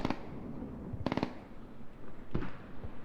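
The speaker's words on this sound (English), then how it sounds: "Mortars coming down inside." Mortar shells land in a military shooter match as bursts of rapid crackling detonations at a moderate distance, separated by short gaps, with a low rumbling background between them.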